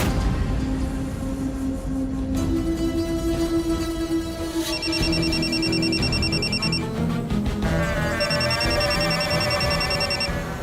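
A phone rings with an electronic ringtone, repeating melodic beeping patterns that change partway through and sound loud and close over a low background score, with no voices during the ringing.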